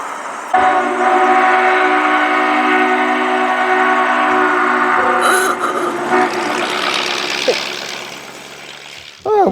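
Southern 4501 steam locomotive rolls past close by on the rails, a loud sustained rumble with tonal whistle-like hums, ending with a brief squeal.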